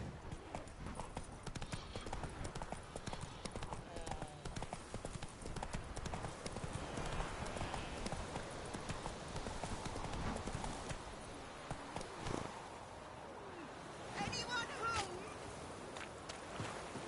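The horse Roach gallops in The Witcher video game, with quick rhythmic hoofbeats running continuously under a faint background, along with occasional sharper thuds and a brief snort-like burst near the end.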